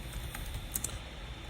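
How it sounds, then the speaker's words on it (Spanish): A few light keystrokes on a computer keyboard click briefly and faintly over a steady low hum and background hiss. "el teclado de nuestra computadora"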